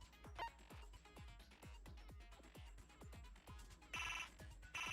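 A harsh, jangling telephone ring in the video game Danganronpa, sounding in rapid repeated bursts against a low rhythmic thumping, with a brighter shrill burst near the end.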